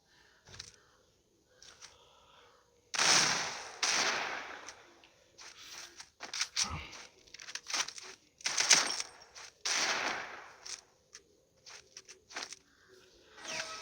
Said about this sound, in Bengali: সেই জন্য আমি ওকে হেডশট মেরে দিলাম, আর চান্স দেব না।